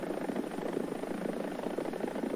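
A helicopter armed with TOW missiles in War Thunder gives off a steady, dense rotor and engine drone, loud and continuous throughout, with no voices.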